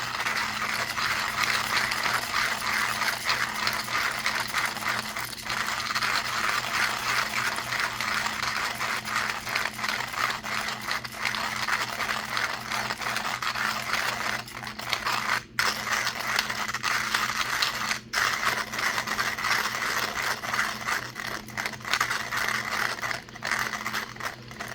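A 1Zpresso hand grinder steadily grinding coffee beans, a continuous close crunching, ratcheting rattle with a faint mechanical hum underneath, with no talk.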